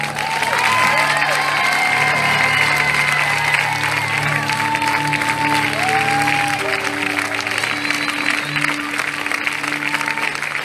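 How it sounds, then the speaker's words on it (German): Sustained audience applause at a concert in Grindelwald, Switzerland, loud and continuous, with some cheering and voices mixed into the crowd noise. "ich würde sagen, es ist ein riesen Applaus"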